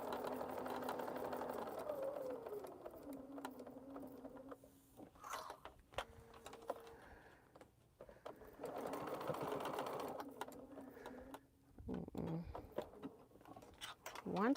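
A sewing machine stitches a tote bag in quick steady runs that start and stop, close by and fairly quiet, with brief pauses and a voice speaking between runs.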